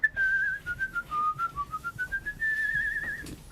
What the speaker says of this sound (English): You're a good whistler.